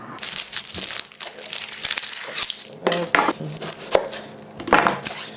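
A knife chops an onion on a cutting board for pasta sauce, a series of close, irregular crunchy cuts, some louder than others, with faint background noise between strokes.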